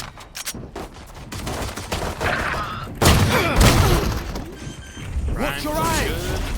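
Rapid gunfire from a competitive Valorant match: sharp bursts and single cracks, one heavy impact around the middle, layered with game effects while a commentator talks over the action.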